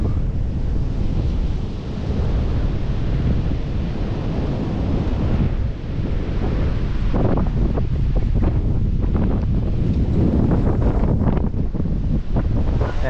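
Wind and ocean surf roll continuously along a shore at low tide in Patapat, Ilocos Norte, a steady loud wash with gusting wind noise buffeting the microphone throughout.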